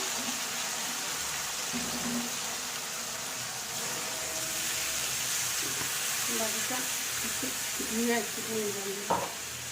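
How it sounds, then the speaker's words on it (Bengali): Bengali five-spice seeds frying in hot oil in a home kitchen, a steady close sizzle running throughout with light stirring clatter and scraping near the end. "তো পাঁচফোড়নটা একটু পুরুক"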